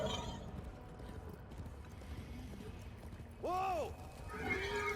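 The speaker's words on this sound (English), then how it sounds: "On the flip side, it's a loud horror horse." A distorted horror horse in the game Warframe's Duviri Paradox lets out a loud, warbling whinny with a rising and falling pitch that stands out near the end over steady ambient game noise.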